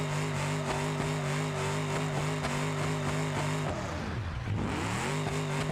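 An off-road truck's engine drones steadily in low gear, its harmonic hum holding then dipping sharply before climbing again as revs pick back up, loud and continuous with no speech.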